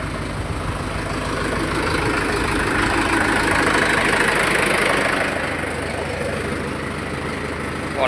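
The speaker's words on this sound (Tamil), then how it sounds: "ஸ்டார்ட் பண்ணோடனே ரேஸ் பண்ணக்கூடாது. 2 நிமிஷம் ஐடியலில் ஓடட்டும்." A Mahindra tractor engine idles steadily after a cold start, a continuous mid-to-low rumble with a slight swell in loudness midway, close by and with no talk over it.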